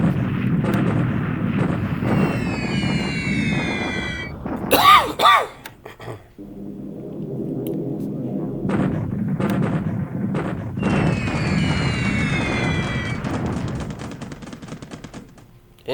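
Flak bursts hit bombers in War in the Pacific: Admiral's Edition, loud rumbling explosions with a sharp crack midway, alongside whining swept tones and a continuous low drone.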